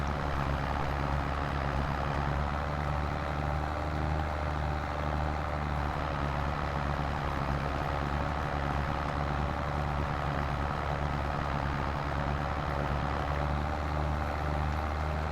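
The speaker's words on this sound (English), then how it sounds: "It's a nice tractor." An old-school tractor engine in Farming Simulator 22 drones at a steady, loud, continuous rumble for the whole stretch, with no talking over it.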